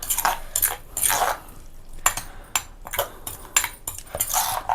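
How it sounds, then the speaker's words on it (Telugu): Radish chutney is scooped from a stone mortar into a bowl, with repeated close scraping and clinking of a utensil against stone in short irregular bursts. "రోట్లోంచి బౌల్లోకి తీసేస్తాం"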